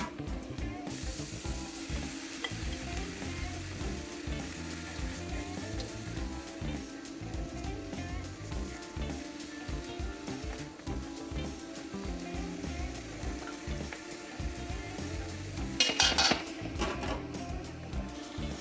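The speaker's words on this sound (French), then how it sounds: "Je fais revenir les poivrons, les oignons et l'ail dans de l'huile d'olive." Peppers, onions and garlic fry in olive oil for paella with a steady, soft sizzling hiss throughout, swelling briefly into a louder crackle near the end.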